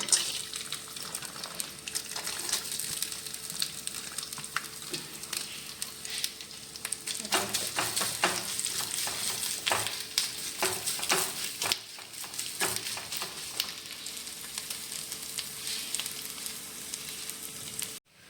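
Grated coconut fries in ghee in a pan for kalthappam, a soft, steady crackling sizzle with bursts of stirring in the middle, fairly quiet and without any voices.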